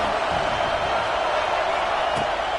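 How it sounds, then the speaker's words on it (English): Home crowd roaring loudly at a college football game, Georgia at USC, a dense and steady wall of cheering that holds at the same level for the whole span. "how nice is it to have the home crowd going absolutely bananas?"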